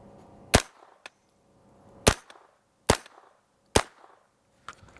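A Diamondback DB9R pistol fires at a target: four sharp, loud shots spaced irregularly about a second apart, then a fainter fifth crack at the end, with quiet between them.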